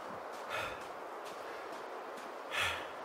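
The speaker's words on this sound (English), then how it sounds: "You just heard him yawn there." A survival character in The Long Dark video game, worn out and tired, lets out a soft drawn breath, a faint airy yawn-like exhale over a steady hiss of background wind.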